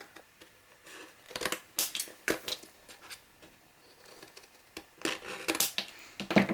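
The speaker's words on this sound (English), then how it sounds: "And then angle your scissors just a tiny bit and cut out." Scissors snip through chipboard while a 6x6 mini album is being made, a run of short, close, crisp cuts in irregular bursts with quiet pauses between them.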